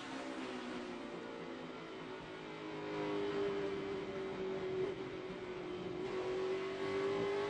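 NASCAR race cars lapping the track at the 2011 Lenox Industrial Tools 301, a continuous droning engine roar that rises and holds with a sustained whining tone, heard from a distance.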